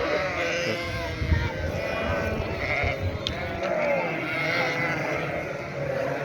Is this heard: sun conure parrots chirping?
no